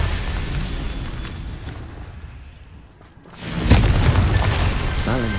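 A Confringo spell in Hogwarts Legacy detonates: after a short lull, a deep, loud booming blast swells and rumbles on with crackling debris, amid game ambience.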